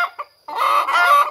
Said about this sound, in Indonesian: Nah ini ayam jagoku juga ya.